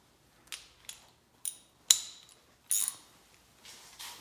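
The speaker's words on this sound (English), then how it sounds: "And a ratchet." Clicks from a ratchet with an extension working a car battery terminal bolt on a 2018 Toyota Sequoia, heard as a few sharp, spaced metallic snaps in an otherwise quiet space.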